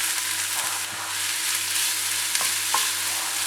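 Onions frying in oil in a kadai for egg masala, a steady loud sizzle with occasional scraping stirs of a spoon against the pan, close by and without talking.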